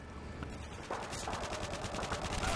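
A P90 submachine gun firing in Modern Warfare 2, a fast rattling automatic burst of closely spaced shots that grows louder after the first second, up close and alone.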